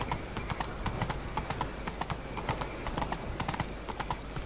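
Horse hooves gallop in a steady, fast clip-clop rhythm throughout, close and continuous, in the video game The Witcher 3.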